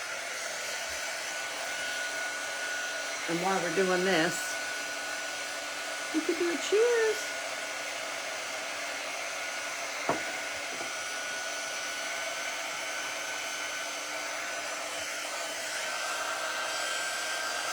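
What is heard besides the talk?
dryer drying a craft project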